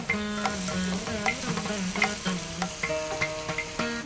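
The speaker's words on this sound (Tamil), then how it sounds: "வெங்காயம் பொரிஞ்சிருச்சு." Onions frying in a pan for a fenugreek-leaf dish, a steady close sizzle with repeated stirring scrapes and clinks in an irregular rhythm, no voices.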